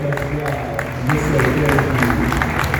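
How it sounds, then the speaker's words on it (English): A crowd applauding at a wrestling fan gathering, with mixed clapping and chatter swelling slightly after the first second and staying steady, voices audible throughout. "I just want to applaud you, but applaud yourself."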